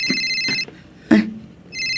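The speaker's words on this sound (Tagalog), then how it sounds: "Agriring ti cellphone ko." A cellphone rings indoors in a few short electronic bursts, clear and close, with gaps between them and a brief thump in one pause.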